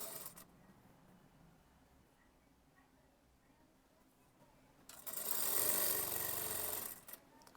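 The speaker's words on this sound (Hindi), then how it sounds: "प्रिंसेस पार्ट को नीचे की तरफ रखें और यहाँ नीचे से सिलाई शुरू करें।" A sewing machine stitches a princess seam on a kurti: quiet fabric handling first, then a loud, steady mechanical whir for about two seconds before it stops.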